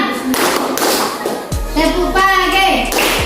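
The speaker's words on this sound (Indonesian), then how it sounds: "Tepuk siang." A class of children claps the 'tepuk siang' rhythm during a teacher-led classroom clapping game, giving a short run of close, sharp hand claps and taps mixed in with talking voices.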